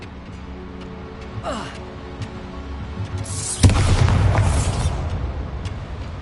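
Bombarda explosion spell from the Hogwarts Legacy video game: a rising magical whoosh, then a sudden loud blast at mid-clip that rumbles on with crackling debris and keeps ringing to the end.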